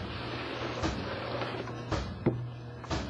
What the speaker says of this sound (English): I'll let the auger continue to turn. So it'll clean the auger.